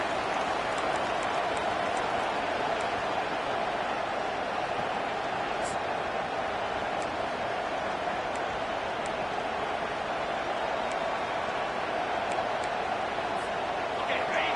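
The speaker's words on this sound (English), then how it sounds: "They challenge this crowd to bring the energy, and I'd say they're doing that." A stadium crowd cheering in the College Football 25 video game, heard as a steady, loud, unbroken roar of many voices that holds at an even level throughout.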